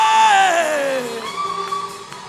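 A crowd at a worship gathering sends up impundu, a loud, high, wavering ululation that slides downward and then trails into fainter overlapping cries.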